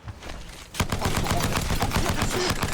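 Rapid automatic gunfire in the battle royale game Apex Legends, with loud, dense, continuous bursts that follow a short quieter lead-in.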